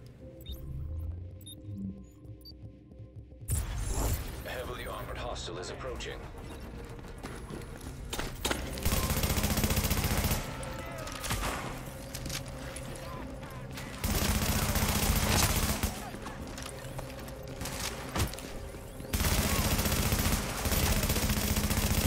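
Rapid submachine gun bursts in The Division, loud and near, starting after a quiet opening and returning in several dense stretches with short pauses between them.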